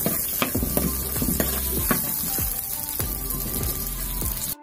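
Chopped onions frying in a pan for potato masala, a steady sizzle with repeated knocking and scraping strokes from a spoon against the pan, close and fairly loud, no talking.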